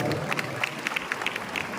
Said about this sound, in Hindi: संदीप कुमार अग्रवाल जी से अनुरोध करता हूं कि माननीय ताली बजाकर माननीय सांसद जी का स्वागत करें।